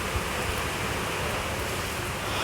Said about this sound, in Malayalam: എന്ത് മഴയാ